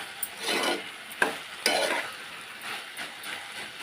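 Ivy gourd (tindora) fry cooks in a pan, with soft bursts of sizzling and a few clanks and scrapes of a spatula stirring, fairly close and quiet.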